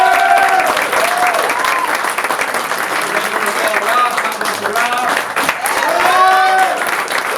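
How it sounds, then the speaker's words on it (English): Loud, dense applause from a theater audience carries on for over seven seconds, with cheers and whoops rising above the clapping and some voices mixed into the crowd noise. "Give it a clap up."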